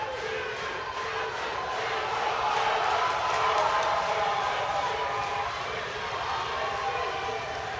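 Crowd noise swells behind a powerlifter at the 2024 IPF World Championships, 93 kg class, a dense, steady roar of cheering and shouting from a large audience that peaks midway and stays loud throughout.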